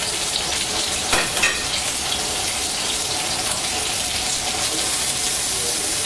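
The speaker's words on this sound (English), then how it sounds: "So here we have the artichoke leaves in the olive oil." Artichoke leaves sautéing in olive oil give a steady, dense sizzle that holds evenly throughout, with a couple of brief clatters of stirring near the start and no talking.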